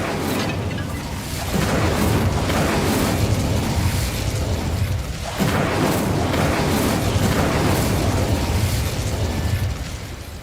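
An Incendio fire spell cast in a Harry Potter video game: two heavy, roaring fiery bursts, one about a second and a half in and another near five seconds, each swelling into a sustained loud rumble.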